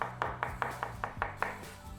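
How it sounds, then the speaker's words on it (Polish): Knife chopping mushrooms on a cutting board in a steady rhythm, about seven crisp, evenly spaced thuds, close and fairly quiet, with no voices. "pieczarki, które teraz pokroję"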